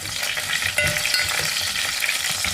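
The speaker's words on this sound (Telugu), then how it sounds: "ఆయిల్ కొద్దిగా వేడైన తర్వాత ఒక 10 మెంతులు, కొద్దిగా ఆవాలు, ఇందులోనే దంచి పెట్టుకున్న 7-8 వెల్లుల్లి రెబ్బలు, ఒక 3 ఎండుమిర్చి ముక్కలు" Fenugreek seeds, mustard seeds, crushed garlic, dried red chilli pieces, cumin and curry leaves fry in hot oil for a Nellore dal stew tempering, giving a steady close loud sizzle with crackling pops and no talk.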